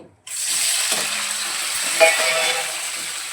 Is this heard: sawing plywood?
no